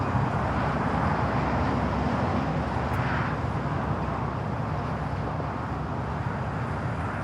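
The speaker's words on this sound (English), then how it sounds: "The Qantas A380 Super up next for arrival on the north side" A Qantas Airbus A380 airliner arriving at LAX, a steady broad roar of jet noise with wind rumble, constant and fairly distant throughout.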